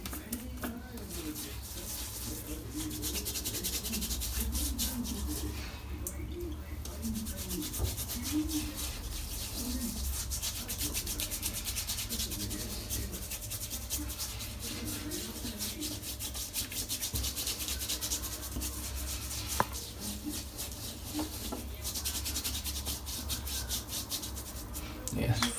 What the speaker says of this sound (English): let's spend the next 45 minutes creating a lather